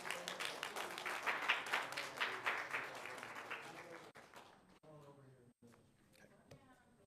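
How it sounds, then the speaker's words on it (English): An audience at a school board meeting applauds in a dense, steady clatter of clapping that fades after about four seconds, leaving faint voices and room noise. "Let's give them another round of applause."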